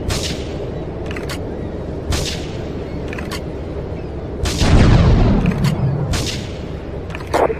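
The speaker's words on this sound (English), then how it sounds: "investigate reports of gunfire and explosions" In a GTA 3 cutscene, repeated sharp gunshots and booming explosions sound out near Portland Harbor, loud bursts at irregular intervals over a steady rumbling background.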